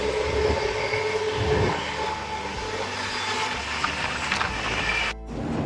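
Steady rumble of an Indian long-distance train in motion, heard from inside a 2nd AC coach near the Andhra border at Hindupur, with a continuous close hum and rattle that cuts out briefly near the end.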